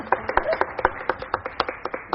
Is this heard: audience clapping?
yes